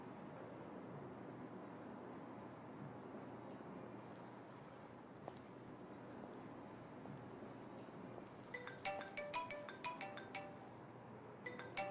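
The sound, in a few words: mobile phone ringtone ringing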